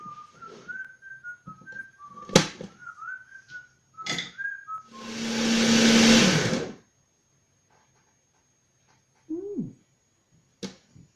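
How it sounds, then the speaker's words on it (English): A blender grinding oats and buckwheat into a coarse flour for a raw flapjack base, one loud roaring burst lasting about two seconds, preceded by whistling and clicks and followed by a short whistle. "So I'm going to grind these oats now with some with the buckwheat into a kind of flour for the base."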